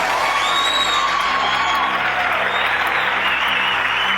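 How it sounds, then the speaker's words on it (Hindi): An audience applauds steadily for Group Captain Faheem Khan, a dense, loud wash of clapping with a few whoops and cheers rising over it, sustained from start to finish. "बहुत सारी तालियां हमारे इस hero group captain Faheem Khan के लिए"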